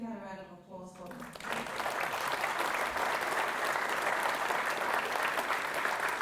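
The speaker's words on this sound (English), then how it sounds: "If we can have a round of applause for them." Audience in a hall applauding after a panel discussion on Christian and Muslim perspectives on spirituality, sustained loud clapping that starts just after a brief spoken line and continues steadily.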